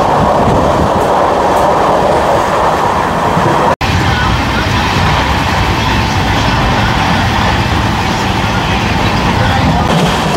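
A Sealdah–Jalpaiguri Road Humsafar Express runs steadily, its broadband rumble and rail noise loud and continuous from start to finish, broken only by one instant dropout near the four-second mark.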